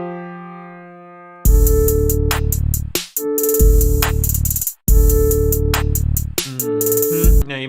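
Recorded electronic music beat played for a class activity: a soft synth tone, then loud, punchy layered drums and bass with brief dropouts between phrases.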